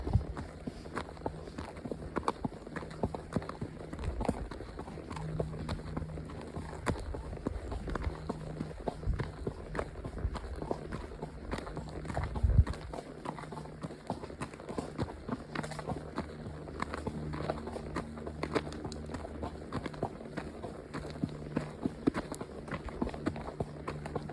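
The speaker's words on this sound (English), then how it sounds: "that nice sound of the horse's hooves" Soft, steady clip-clop of horse hooves on a Texas county road continues throughout at a walking pace, fairly quiet with light outdoor background.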